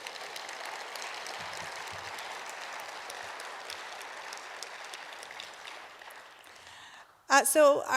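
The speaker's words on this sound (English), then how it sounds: "Let's give them another round of applause, please." An audience at a historic preservation awards ceremony claps for the winning projects, a moderate, even patter of applause that fades out before a voice begins speaking close by at the very end.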